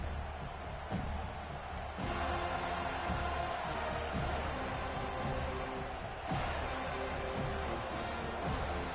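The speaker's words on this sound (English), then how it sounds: "This crowd trying to show them what it's going to be like all day in this house." Steady crowd roar fills a football stadium in Madden 2024 as the Seminoles kick off, a dense continuous wash of cheering with faint thumps and a commentator talking over it.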